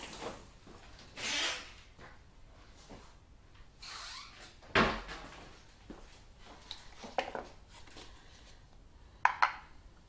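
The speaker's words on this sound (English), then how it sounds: "I'm going to get my moulds back out of the fridge" Fridge door opened and handled while chocolate moulds are taken out, soft thuds, a seal release and light clatters spread unevenly, close in a quiet kitchen.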